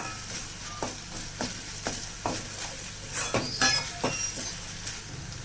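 Onion paste sizzles steadily in hot oil for a small-fish curry, with a spoon clinking against the pan in irregular strokes as it is stirred, close and fairly loud, with no talking.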